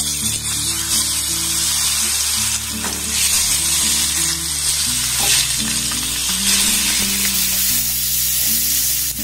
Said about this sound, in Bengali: গ্যাসের ফ্লেমটাকে লো রেখে এবার টমেটোগুলো এর মধ্যে আমি দিয়ে দেবো।